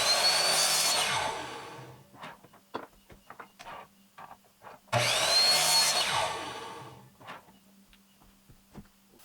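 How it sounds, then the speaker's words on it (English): A bandsaw roars through a spalted wood pen blank in two long cuts separated by a pause, each pass loud and harsh before tapering off into light knocks and handling noises. "take it to the bandsaw and trim that off"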